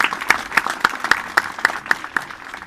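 Church congregation applauding to welcome first-time visitors, sparse scattered claps in an irregular rhythm, moderately near, with no talk over them.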